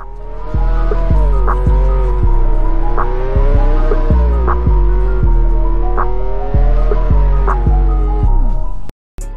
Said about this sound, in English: I wanted to try a burnout